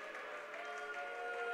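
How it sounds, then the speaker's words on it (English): A high school boys basketball crowd at a regional playoff game in a gym applauds with a steady wash of clapping, mixed with a faint crowd murmur, as a seldom-used senior is taken off the court. "They're booing the taking off of a senior who doesn't play very often."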